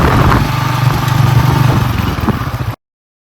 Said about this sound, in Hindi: मोटरसाइकिल बाहर निकाल ली है, तो बिस्मिल्लाह करते हैं, सफर अभी करने लगे जी हम स्टार्ट।